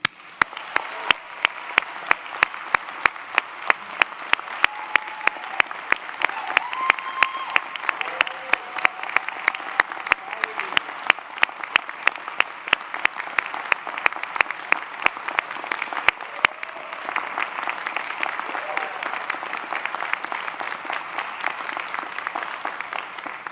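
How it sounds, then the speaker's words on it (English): A commencement audience applauds for a School of Social Work graduation, a sustained, dense patter of clapping with a few sharp, loud claps standing out near the front, continuing unbroken for over twenty seconds. "please join me in a round of applause to recognize Dean Smith"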